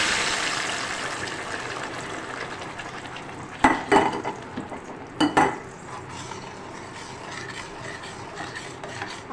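Onion, tomato and garlic paste goes into okra frying in oil, bringing a soft steady sizzle broken by a few close clattering scrapes and stirs of a spoon against the pan.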